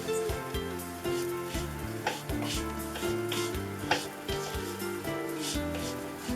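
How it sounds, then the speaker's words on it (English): Vermicelli frying quickly in a pan for Egyptian koshary, a steady sizzle and occasional stirring clatter beneath continuous background music. "Don't forget the vermicelli. They are fried really quickly."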